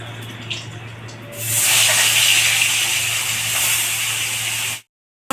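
Fish frying in hot oil, a steady loud hiss and sizzle that swells after a quieter start, holds for several seconds, then cuts off abruptly.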